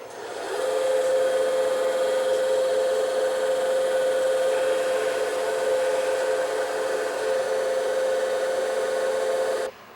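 Automatic vertical saw cutting steel in a shop, a steady loud droning whine with a sustained tonal hum that holds evenly before cutting off abruptly.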